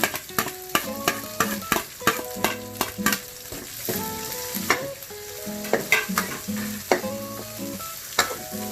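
Chorizo and corn stir-fried in a wok for easy fried rice give off a loud, continuous sizzle, broken by frequent sharp scraping and clanking stirs in an irregular rhythm, with no one talking.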